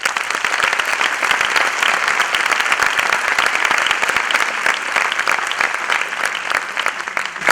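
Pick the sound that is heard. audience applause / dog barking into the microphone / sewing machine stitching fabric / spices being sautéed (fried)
audience applause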